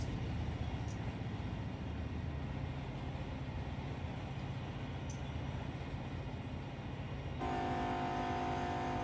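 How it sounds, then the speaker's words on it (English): A heavy unit oil train with four locomotives in the Run 8 Train Simulator game rolls past with a continuous deep rumble and clatter, and its horn starts sounding near the end. "Unit oil train, looks like."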